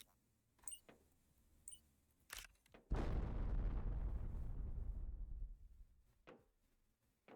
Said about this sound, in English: Let's drop another bomb.